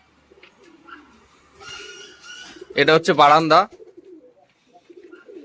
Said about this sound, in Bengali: নর পায়রা কুড়কুড় করে ডাকছে